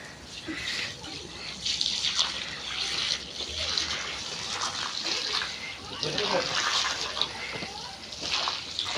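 A kitchen carpet is being washed with water in a garden outdoors, with steady running and splashing water throughout at moderate level and faint background sounds.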